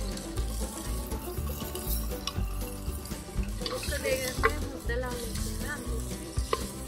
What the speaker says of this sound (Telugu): అల్లం పేస్ట్ వేసిన తర్వాత బాగా అన్నిటికీ కలిసేలాగా కలుపుదాం